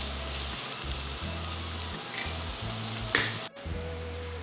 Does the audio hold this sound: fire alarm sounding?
no